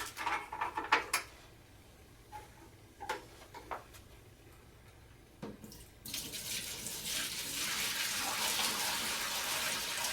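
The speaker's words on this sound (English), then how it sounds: "when you pour the water in, you just pour it directly onto the plate" Water is poured into a home fish tank onto an upside-down plate resting on the gravel, starting with a few clinks and taps, then becoming a steady, close splashing rush.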